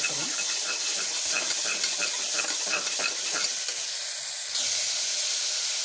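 Onions and ginger-garlic paste sauté in a pan for a beetroot kurma with carrot and beans, giving a steady, close frying sizzle with stirring scrapes throughout and no voices.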